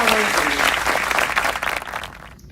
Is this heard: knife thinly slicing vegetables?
no